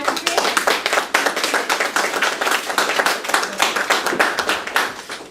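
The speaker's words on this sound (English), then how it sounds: "Let's give a warm round of applause for Dr. Roger Grant." An audience claps steadily and densely for a railroad history lecturer, a close, sustained round of applause lasting several seconds with no talk over it.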